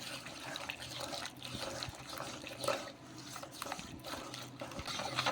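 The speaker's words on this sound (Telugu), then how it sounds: "ఇలా ఈ విధంగా నీళ్ళు అనేది చూసుకొని వేసుకోవాలి" Water is poured into batter for a quick breakfast, a soft continuous trickle and slosh with faint stirring, close and quiet throughout.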